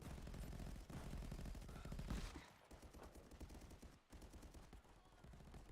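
Shotgun fire in a VR shooter game comes as a dense burst of close, loud blasts, then a few more scattered reports and mechanical handling noises, with no voice over them.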